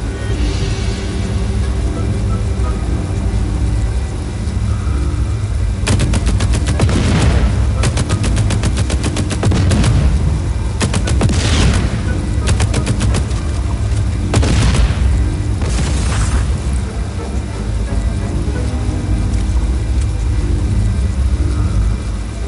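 Gunfire in the open-world action game Just Cause 4 as a player shoots an exposed relay: loud, dense bursts of rapid automatic fire in several volleys with booms, over a constant rumbling engine-like background.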